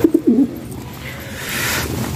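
A pet pigeon gives a few close, throaty coos at the start, then a rustling background noise lingers with no more calls.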